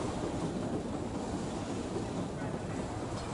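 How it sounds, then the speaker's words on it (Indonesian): A train pulls in at Melbourne, a low, continuous rumble of rail cars rolling with a faint airy wash on top. It holds steady and moderately loud throughout with no speech. "kereta api yang ditumpangi teman-teman kita tiba di Melbourne"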